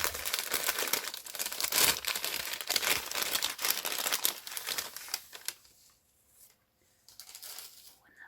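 Close, crisp crinkling and rustling of a paper advent bag being opened, continuous for several seconds before tapering to a few quieter rustles.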